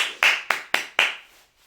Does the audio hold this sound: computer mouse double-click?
no